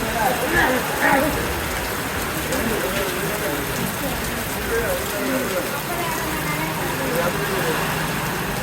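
Heavy rain pours over an outdoor market with fish stalls, a loud, dense and continuous hiss of drops drumming on surfaces, with voices faintly audible underneath.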